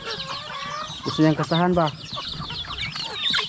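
Chickens and a turkey cluck and squawk on a provincial farm, a loud burst of harmonic calls in the middle with softer clucking around it, a person talking over the birds.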